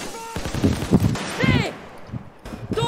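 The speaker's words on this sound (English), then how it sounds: "That's a sniper." Sniper gunfire in the video game Payday 2 sounds as loud, sharp shots mixed with game effects, while a person talks over the action.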